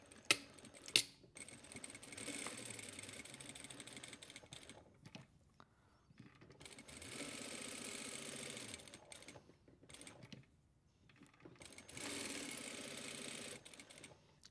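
Sewing machine stitching a bagged-out pointed pocket flap seam with back tacks, three bursts of steady whirring separated by quiet pauses and small handling clicks.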